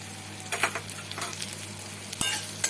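Grated garlic stirred and frying in a pan for a Bengali prawn dish, with soft scattered sizzling bursts and light spatula scrapes close by, no talking.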